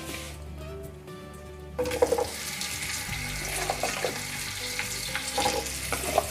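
Four medium potatoes cut into pieces hit a hot frying pan: a quiet lead-in with a faint tone breaks into a sudden loud sizzle, then crackling, stirring clatter and spattering continue up close with no talking.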